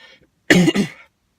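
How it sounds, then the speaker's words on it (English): A single close, loud cough in two quick bursts, followed by silence. "My apologies for coughing."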